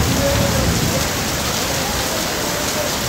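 Heavy rain pours down steadily in Malaysia, a loud, dense roar of drops hitting surfaces close by, continuous and unbroken with no voices.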